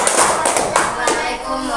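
Pupils in a classroom clap their hands together, a brief dense burst of applause with a few voices mixed in.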